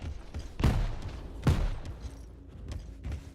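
Grenade explosions in the arena shooter Quake Champions land as two sharp, punchy blasts about a second apart, each with a short rumbling decay, set against faint game ambience.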